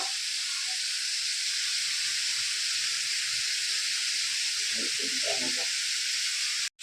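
Ginger and green chili sizzle in a hot frying pan, a steady loud hiss from start to finish with a few brief crackles near the end, and no voices over it.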